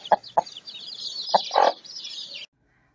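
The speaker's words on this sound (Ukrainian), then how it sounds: "Мама курка у садочку кличе донечок і синочків." A hen clucks in a few short, separate bursts over steady high chirping from small birds, then the sound cuts off into silence.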